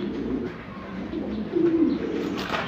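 Fancy breeding pair of pigeons cooing close by, soft low throaty coos rising and falling in a short burst, alone without talk.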